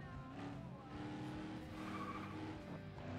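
Cars race in FlatOut 2 with a continuous engine drone, tires squealing and skidding, and other cars whooshing past, sustained at an even loudness.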